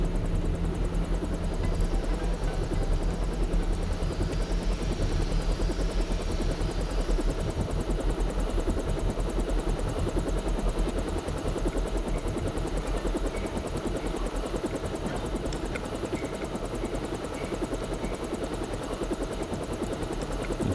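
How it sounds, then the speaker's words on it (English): A helicopter sits in a helicopter bay in the game Deus Ex, its rotors thrumming in a loud steady throb with a continuous engine whine, close and unbroken for about twenty seconds. "That's just the helicopter bay."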